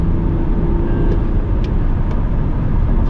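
A 2016-era BMW X5 F15 3.0 diesel M Sport accelerates, giving a loud, steady engine and road drone that holds level for about three seconds, heard alone without talk.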